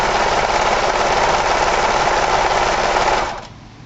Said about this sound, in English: keeping your foot nice and even with your paracord, just start sewing. Short bursts are usually better if you're inexperienced.